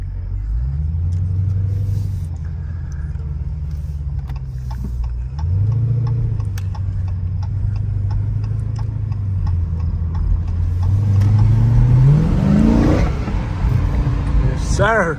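Dodge Challenger Scat Pack with its 392 engine cruising at night, a deep steady exhaust rumble heard from inside the car, with a brief rev near the middle and a rising surge of acceleration toward the end.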